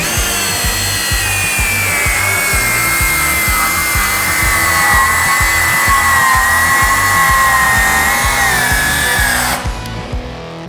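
A DeWalt battery-powered saw cuts through wood, a loud steady motor whine with rapid rhythmic low rasping strokes throughout, stopping abruptly near the end.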